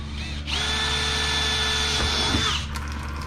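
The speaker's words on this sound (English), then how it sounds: "you're gonna drill a hole in your fuel tank" A power drill whirs steadily at a high pitch for about two seconds while drilling a hole in a diesel fuel tank, then winds down, with a faint background hum.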